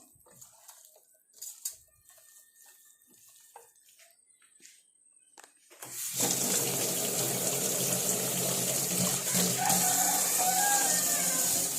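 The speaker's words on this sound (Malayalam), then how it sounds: "ശകലം വെള്ളം ഒഴിച്ചേക്കാം." After several seconds of quiet with faint clicks, water suddenly gushes into a cooking pot and keeps pouring steadily to the end.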